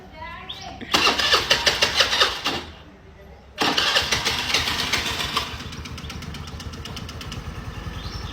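A scooter engine in a hot sandy outdoor setting cranks and catches twice, each start swelling into a loud rattling run, with a short lull between, then settles into a steady idle while people talk over it.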